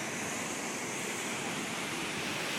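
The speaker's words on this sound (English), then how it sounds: "It's a pretty big waterfall" A large waterfall roars from its top edge, a dense, steady rush of falling water filling the whole clip with continuous broadband noise and no breaks.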